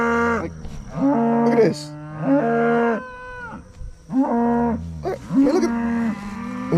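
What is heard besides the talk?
cattle bawling in a pasture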